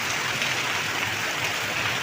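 Heavy rain falling during Cyclone Fengal, a steady dense hiss with no breaks, loud and close, like a constant downpour on surfaces with no voices over it.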